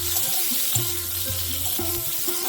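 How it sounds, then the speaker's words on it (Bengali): Potatoes frying in oil for a palak paneer curry give a steady, close sizzle with a soft crackling texture and a low hum underneath, continuous throughout with no talking. "আলুগুলো আলুগুলো অল্প করে ভেজে নেব"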